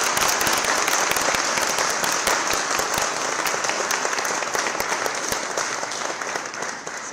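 Audience at the inauguration of a handicraft exhibition claps steadily and loudly for several seconds, a dense, continuous crackle of many hands filling the room.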